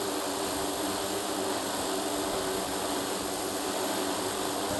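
A DJI Wind 8 octocopter hovers outdoors in a 10 to 15 knot breeze, its rotors making a steady, even whine and wash of noise at a moderate distance with no voices.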